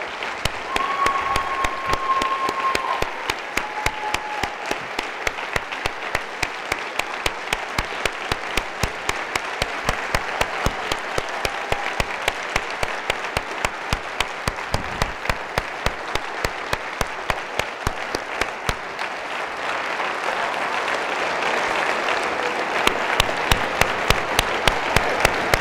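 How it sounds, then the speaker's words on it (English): An audience at a speaker-series event applauds as speakers return to the stage, a steady, dense wash of clapping that carries on for roughly twenty-five seconds with a little more energy near the end. "Please give them a round of applause."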